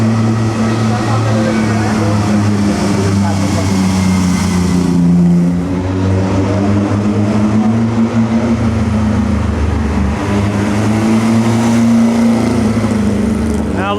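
A vintage Ferrari engine drones loud and close along tight Italian streets during the Mille Miglia road race, a steady low hum with a faint rise in pitch midway, under a voice.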